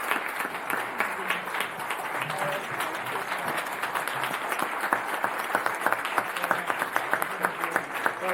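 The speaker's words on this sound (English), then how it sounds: "Just give it a round of applause." Steady round of applause from attendees at a school district board meeting, moderately loud clapping continuing throughout with some crowd murmur beneath.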